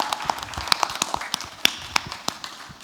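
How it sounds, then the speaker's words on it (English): A small audience claps for Mr. Edmond at a Year 4 school show, scattered sharp hand claps spread unevenly across the moment, fairly close and moderate in loudness with no voices over them. "Can we give Mr. Edmond a clap once again?"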